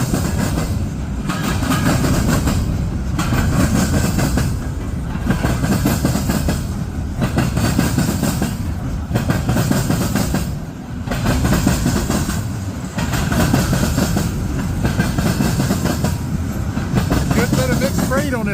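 A southbound Norfolk Southern freight train rolls past near Mortimer, loud continuous rumble with rhythmic clickety-clack of wheels over rail joints repeating every couple of seconds, briefly easing before resuming.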